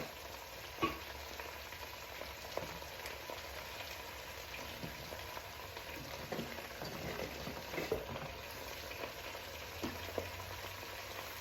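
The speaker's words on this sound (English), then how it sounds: "It's kind of like frying them a little bit at first, or I would say sauteing" Collard greens sizzle and crackle softly as they sauté in a pot, a steady quiet frying hiss with occasional small pops and stirring noises.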